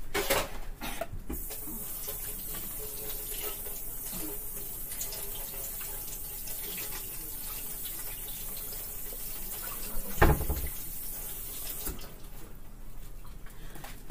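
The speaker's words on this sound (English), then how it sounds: "rinse my hands off here" A kitchen tap runs in a steady, fairly quiet stream while hands are rinsed under it, with one brief knock partway through.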